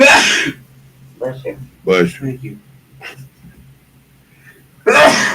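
Two loud bursts, one at the very start and one near the end, open and close a stretch of quiet speech in a casual indoor room, with a steady low hum underneath.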